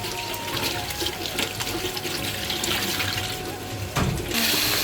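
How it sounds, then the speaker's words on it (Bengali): Tap water running steadily into a sink while raw chicken pieces are washed for a chicken vegetable khichuri, a continuous close splashing rush with a brief louder gush near the end. "যেহেতু রান্না করব আর একটু ভালোভাবে আমি ধুয়ে নিই চিকেনগুলো"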